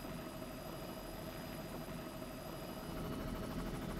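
Helicopter engine and rotor drone during aerial filming over a Roman fort site at Papcastle, a steady, loud, continuous broadband roar with no talk.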